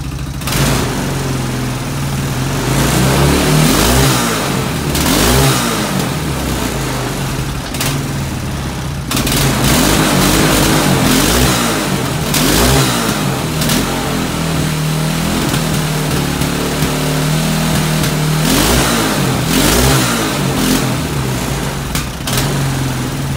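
Small engines revving after a cold start, a loud steady idle rising and falling in repeated revs over about twenty seconds, with a brief dip midway before picking back up; no talking.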